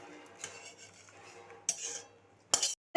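Mango mustard chutney being poured out of a pan, with a few sharp metallic scrapes and clinks of a utensil against the pan between quiet pauses, close by.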